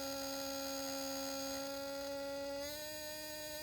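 An RF low potential rate-of-change experiment device gives off a steady electrical hum rich in overtones, which shifts slightly higher in pitch partway through and then holds steady, with no talk over it.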